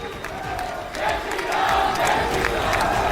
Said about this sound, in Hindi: उन्होंने जय श्री राम के नारे लगाए